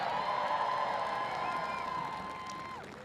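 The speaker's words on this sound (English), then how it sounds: "Please give Betty a big round of applause" A crowd applauding and cheering outdoors at the National Christmas Tree lighting, a dense wash of claps and raised voices that holds, then slowly fades with a whoop near the end.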